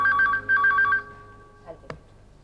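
A telephone rings twice in quick electronic bursts, followed by a short silence and a couple of faint clicks.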